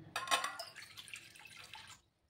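Water poured into a bowl, a short, close splashing stream lasting about two seconds before stopping abruptly.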